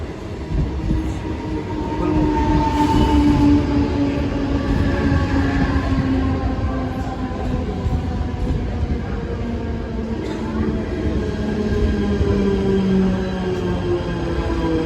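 A Pune-area local train to Lonavala rumbles steadily nearby at a station with a heavy, continuous roar, wheels humming and faint metallic squeals drifting over the constant rolling noise.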